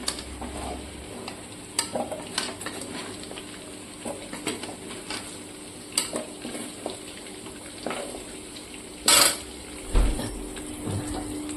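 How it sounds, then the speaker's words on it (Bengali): Shrimp frying in leftover hot oil in a home kitchen, a soft steady sizzle with intermittent stirring clinks and scrapes, and a couple of sharper bursts near the end, with no voices. "অবশিষ্ট যা তেল ছিল এতে আমি চিংড়ি মাছগুলো ভাজা করে নিচ্ছি।"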